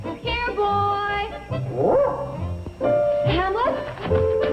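Hamlet the dog barks and yips in several bursts, close and fairly loud, mixed with voices and a harmonic, music-like background.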